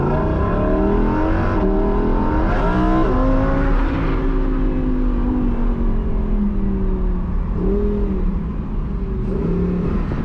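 A Lamborghini Huracan Performante on a track lap, its engine loud and close in a steady high roar that climbs and dips through gear changes, with no talking.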